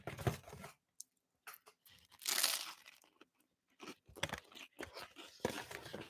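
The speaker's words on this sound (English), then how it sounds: "ASMR toast bite for all of you." Crunchy toast is bitten and chewed close to the mic in quiet ASMR style, with a few crisp crunches and softer chewing sounds between near-silent gaps.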